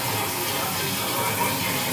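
Shower water running in a pro club shower after a button is pressed, a steady broadband hiss and spray that stays even and close throughout with no pauses.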